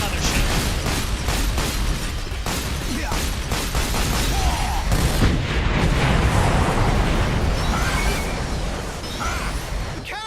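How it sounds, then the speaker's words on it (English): Huge alien cannons fire in the Earth Defense Force 5 video game, a loud, dense stretch of booming blasts and rumbling explosions that keeps going throughout with layered bursts. "The cannons are activating! The large cannons are activating! They're firing!"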